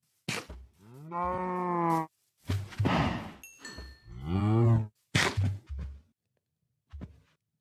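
Cows mooing in the Stardew Valley farm game, several long harmonic lowing calls in a row with short thumps between them, close and fairly loud, with no talking.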